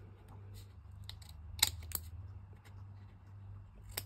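Scissors snipping through paper card tabs for a handmade butterfly book card, a few short crisp cuts close by over a low steady hum, with no talking.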